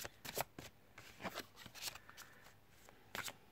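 Oracle cards being shuffled by hand in a quiet room, with a string of soft papery riffles and flutters in irregular bursts, close and fairly faint, and no voice over them.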